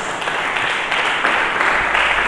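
A church congregation at an Indonesian sermon claps in praise, a steady wash of applause from many hands, fairly loud and close, lasting a couple of seconds.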